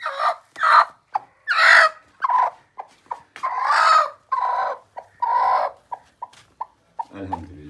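A broody hen clucks repeatedly in close, loud bursts with short pauses while being placed in a basket, ending in a few lower, rougher calls.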